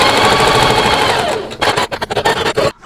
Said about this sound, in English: So I'm just going to back stitch here and go back around one more time.